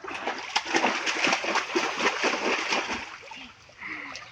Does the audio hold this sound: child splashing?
yes